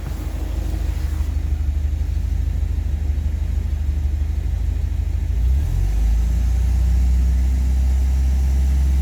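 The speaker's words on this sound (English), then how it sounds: "It's only a micro adjustment to the idle speed. That's the only tiny amount of change we've had to make. But this engine feels happy." A car engine idles steadily after a tune-up that slightly adjusted the idle speed, giving a close, even low rumble with no change in pace and no talking.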